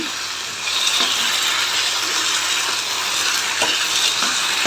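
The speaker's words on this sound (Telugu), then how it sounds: "ఇది బాగా వేపిస్తున్నాం పచ్చి వాసన వేయలాగా వేగాలి" A loud, steady sizzle of tomato paste frying in a pan, with occasional soft stirring taps and no voices.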